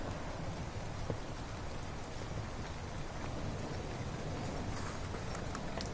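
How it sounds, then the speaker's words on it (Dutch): Steady rain pattering outdoors during a minute of silence at a memorial bike ride for MH17 victims in Eindhoven, a continuous close-by hiss of drops on surfaces with no voices, even in loudness throughout. "Het enige wat je hoorde was het getik van de regen"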